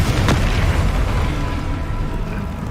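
The Confringo explosive spell goes off in Hogwarts Legacy, a single loud booming blast with a rumbling low tail that fades over a couple of seconds.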